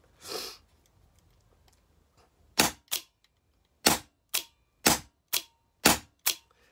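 An Empire Cocker paintball marker fires seven sharp, close shots in uneven pairs and singles after a brief rustle, each pop crisp and loud against a quiet background.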